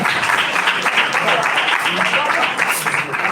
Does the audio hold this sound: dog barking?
no